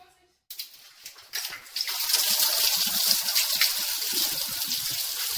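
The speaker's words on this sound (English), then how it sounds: "First, drain all the fluids." Fluids pour from a Nissan TD42 Patrol diesel engine into a bucket, starting with a few splashes before settling into a steady, close gushing stream that continues to the end.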